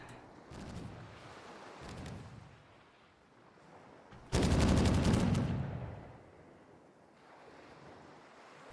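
Ship cannon shots boom across the water in the pirate game Caribbean!, with a cluster of short reports early on and one big, long-rumbling blast in the middle over a steady sea-wash background.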